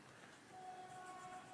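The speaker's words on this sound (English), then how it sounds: "There's a train going by." A train passes in the distance, a faint steady rumble with a thin sustained tonal whine riding over it. No voices.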